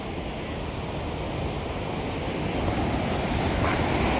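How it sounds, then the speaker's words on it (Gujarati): Sea waves splash and wash close by in a steady, rushing roar that stays loud and even throughout, with no talking. "પાણી એકદમ પાણી કેટલો અવાજ કરે"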